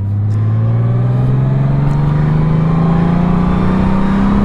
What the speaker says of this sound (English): Highway run on a Goldwing.